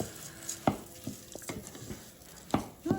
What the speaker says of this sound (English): you're going to move it around so it's fully coated with the oil and the butter